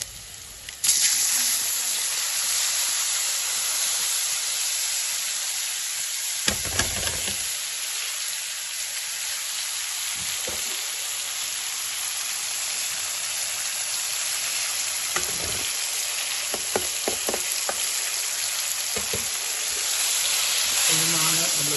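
Mango pieces frying in a pan for pickle, a steady wet hiss of hot oil running throughout with a few louder clatters and stirring bumps, close and fairly loud.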